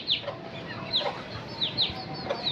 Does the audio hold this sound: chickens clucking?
yes